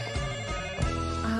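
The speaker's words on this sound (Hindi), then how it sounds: "देखो फोन बज रहा" A phone rings in an office setting, a steady electronic ringtone with a dense musical tone that plays continuously and loudly throughout.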